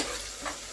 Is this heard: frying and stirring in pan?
yes